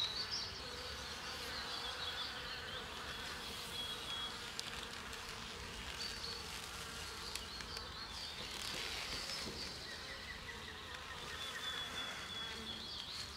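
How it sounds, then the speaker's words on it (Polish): A steady, dense hum of many honey bees buzzing close by at their hive, continuous with no voices, a few brief higher insect whines drifting over the drone. "a pszczoły wracają z pola"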